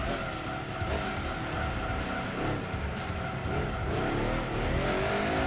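Race cars roar through a long race at Grand Valley in Gran Turismo 2, a Porsche or RUF among them, with engines droning loud and steady while tires squeal through the corners.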